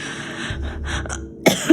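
A woman in an audio drama gives two short, sharp coughs close to the microphone at the very end, after a moment of quiet breathy sounds.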